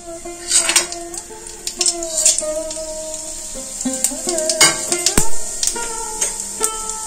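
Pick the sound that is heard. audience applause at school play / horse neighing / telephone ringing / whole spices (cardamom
whole spices (cardamom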